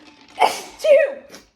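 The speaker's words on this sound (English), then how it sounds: "that was the weirdest sneeze I've ever had in my life" A single odd, drawn-out sneeze from a woman, close and loud, with a short sharp burst followed by a longer voiced, tonal tail, then a faint trailing breath.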